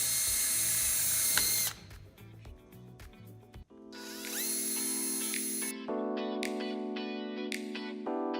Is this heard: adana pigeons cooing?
no